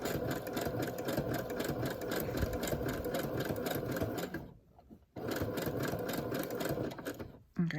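Sewing machine stitching zigzag on fabric panels: rapid, even mechanical stitching runs close and steady, pauses briefly near the middle, then resumes and stops again near the end.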